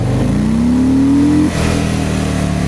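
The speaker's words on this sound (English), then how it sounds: "And the engine note, man." A 2018 Harley-Davidson Fat Boy motorcycle engine revs up loudly and close, its pitch climbing steadily for about a second and a half before the throttle is released and it drops back to a rumbling idle, with no talking.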